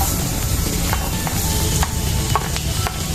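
Onion, garlic and ginger pieces sizzling in hot oil in a pan for shahi paneer, a dense, loud, continuous fry with a few faint stirring clicks.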